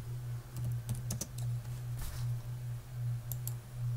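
Fingers tapping a computer keyboard in short irregular bursts of light clicks, close and fairly quiet over a steady low electrical hum, with no voices.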